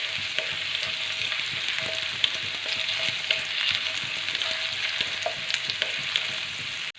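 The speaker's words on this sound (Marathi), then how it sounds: "लसूण पण छान आपल्याला तेलामध्ये परतून घ्यायचा" Garlic sautés in hot oil for a vegetable dish with paneer, giving a close, continuous sizzle with light crackles and soft stirring clicks throughout, and no talking.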